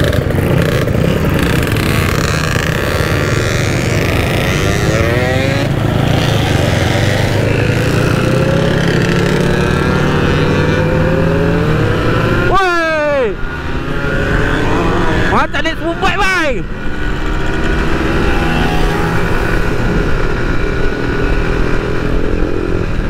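A Yamaha RXZ two-stroke motorcycle ridden at a club member event, its engine buzzing loudly and steadily close by, with revs rising and dropping and a brief throttle cut midway, while people talk over it.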